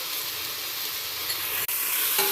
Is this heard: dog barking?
no